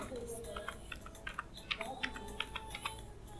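Keys clatter on a computer keyboard while entering data into an Excel spreadsheet: a quick, uneven run of light clicks, fairly close, over a low room background.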